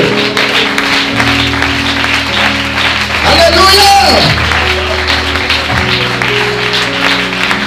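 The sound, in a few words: church congregation applauding the Lord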